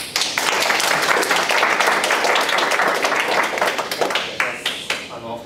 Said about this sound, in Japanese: じゃあ拍手で。